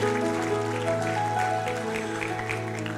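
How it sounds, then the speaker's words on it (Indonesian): Wedding guests at a church holy matrimony ceremony applauding the newlyweds, a brief spell of clapping from the congregation over steady background music. "Tepuk tangan buat kedua mempelai"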